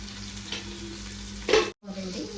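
Masala with coriander and mint fries in a pan with a steady close sizzle, a louder burst of stirring and a brief dropout near the end, then the sizzle resumes, with no voices.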